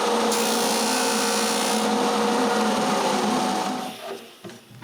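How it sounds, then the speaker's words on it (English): A power sander works on wood ends, cutting 45-degree angles for a bathroom vanity, with a steady loud whine that holds for about four seconds, then drops away and stutters briefly near the end. "I clamp a square on my sander. And each end is sanded at exactly 45 degrees."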